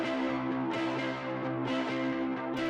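Doubled electric guitars ring out in a pop chorus, sustained chords with soft strummed attacks every second or so, fairly quiet and without voices.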